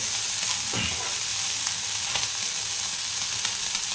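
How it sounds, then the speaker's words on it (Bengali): Fish coated with salt and turmeric fries in a pan, a loud, continuous close sizzle with occasional crackles and light stirring scrapes throughout. "নুন আর হলুদ দিয়ে আপনাদেরকে মাছটা ভালো করে ভেজে নিতে হবে"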